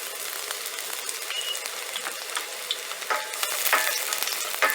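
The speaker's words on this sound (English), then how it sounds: "once my pan is hot, went ahead and chopped up some garlic. Get that in there." Chopped garlic sizzles in a hot pan, a steady crackling fry with scattered pops and a few scraping stirs building slightly louder toward the end.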